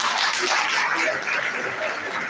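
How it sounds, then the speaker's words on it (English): Applause from an audience at a career talk program for prospective students, a dense steady wash of many hands clapping with a faint chuckle underneath, sustained throughout. "round of applause for him"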